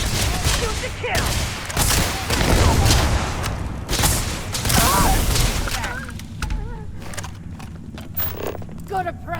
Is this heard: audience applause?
no